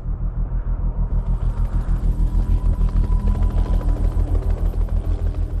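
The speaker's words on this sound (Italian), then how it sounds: "L'elicottero porta Joe a valle prima che arrivino le nuvole" A helicopter's rotor thumps in a fast, steady pulse over a deep rumble near the Eiger in worsening weather, loud and close, with no voices.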